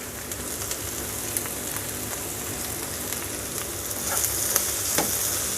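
Egg and onion omelette mixture with coriander sizzles and fries steadily in a pan, a close, even crackle with occasional stirring clicks and no voices.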